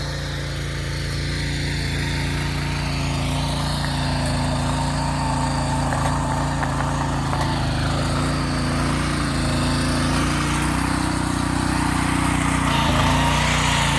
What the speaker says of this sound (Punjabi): ਤੁਸੀਂ ਦੇਖ ਸਕਦੇ ਹੋ ਬਹੁਤ ਵਧੀਆ ਤਰੀਕੇ ਦੇ ਨਾਲ ਵਹਾਈ ਕਰਦਾ ਜੀ